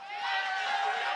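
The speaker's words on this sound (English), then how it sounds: "that's what I heard some boos, actually" A live esports crowd at a League of Legends match, CLG against Golden Guardians, lets out a brief, muffled wash of boos from a distance, heard alone.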